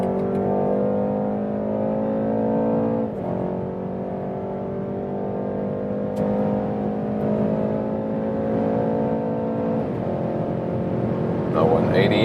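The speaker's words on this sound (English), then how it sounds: "Look, that was a 60 to 120 kilometers an hour acceleration." A BMW 330i M Sport with a 2-litre engine accelerates hard on the German Autobahn from 60 to 120 km/h. Its steady engine drone rises in pitch through the gears under a continuous roar of wind and road noise.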